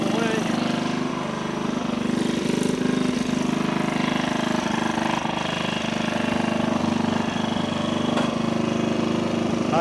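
A motorcycle engine idles a little fast, a steady, continuous close-up drone with a fairly even level and no pauses.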